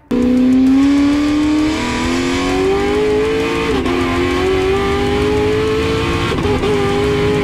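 A tuned Fiat Multipla engine, 1294 hp, roars loudly at full throttle, its pitch climbing steadily as it revs hard, close and continuous with no talking.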